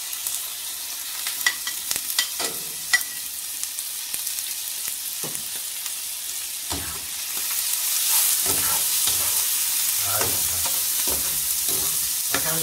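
Cuttlefish goes into a hot pan for Spanish black rice with squid, then sizzles steadily, the frying swelling louder partway through as a utensil stirs and scrapes nearby.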